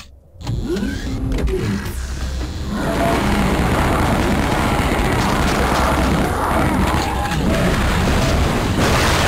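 A rocket launcher blast against a nearby wall in the 1997 shooter Shadow Warrior: a sharp opening burst followed by a loud, sustained roaring rumble that stays dense and heavy to the end.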